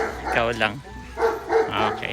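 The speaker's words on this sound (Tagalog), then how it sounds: "Pasensya po sa aso ng kapitbahay." A neighbour's dog barks in quick, loud yapping bursts close by, mixed in with people talking.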